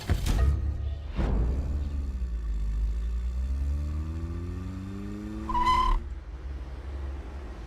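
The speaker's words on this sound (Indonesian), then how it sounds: "Mobil berhasil mereka curi dan dibawa pergi." A stolen car is driven away, a low engine rumble that rises and shifts with gear changes, bracketed by sharp thumps and a brief high squeal near the end.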